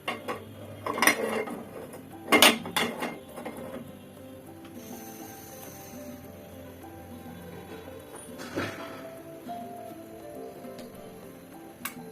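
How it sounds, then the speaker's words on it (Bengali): A frying pan is set onto a kitchen stove for cooking dal, producing a few close metallic clatters and scrapes followed by a quieter clank, with low background hum between. "ফ্রাই প্যানটা বসাই দিলাম"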